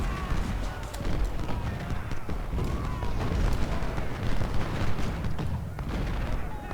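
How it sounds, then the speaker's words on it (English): Civil War battle gunfire in the strategy game Ultimate General: Civil War: a dense, rumbling battlefield din with scattered sharp shots and distant booms running continuously throughout. "So if he shoots his pistol, come on, keep shooting."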